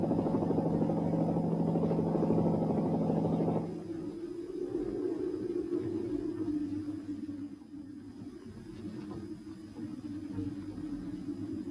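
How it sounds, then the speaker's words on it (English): A helicopter's steady rotor drone, loud and full at first, then settling into a lower, continuous rumbling hum. "Again, only helicopters could help."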